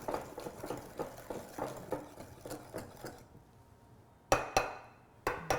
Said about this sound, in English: I'm going to give it a whisk as well